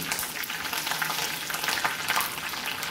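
Mustard seeds and curry leaves sizzle and spatter in hot oil for a sambar vegetable tempering, a dense, continuous crackling fry heard up close with no talking.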